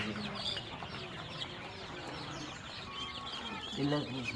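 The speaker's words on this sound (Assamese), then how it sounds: "ইয়াত 1000 কইল বাৰ্ড আছে" A flock of Japanese quail on a farm of about a thousand birds, a dense, nearby chorus of overlapping chirps and calls, with a person talking underneath.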